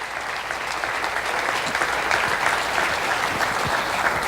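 A church congregation applauding for mothers on Mother's Day, a dense, sustained round of clapping from many hands filling the room at steady loudness.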